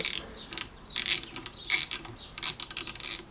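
Ratchet tightening 10mm bolts on a brake slave cylinder of a classic Fiat 500's front drum brakes, bursts of rapid close clicking separated by short pauses, with no voices.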